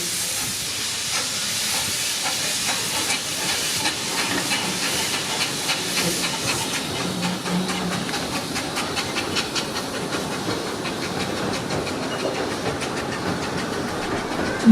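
Steady hiss of steam from a Ravenglass & Eskdale Railway steam locomotive at Irton Road station during a 150th anniversary gala, continuous and fairly loud throughout with faint rhythmic pulses underneath.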